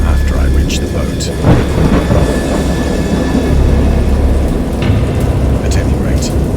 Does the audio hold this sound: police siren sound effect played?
no